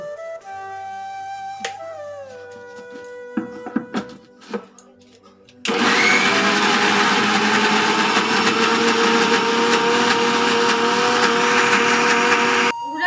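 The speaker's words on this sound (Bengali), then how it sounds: "দিয়ে আমি এবার এটা মিক্সি করে নেবো" A mixer grinder blends spinach paste with warm water in a loud, steady whirring roar lasting several seconds, preceded by scattered clatter and a brief quieter stretch.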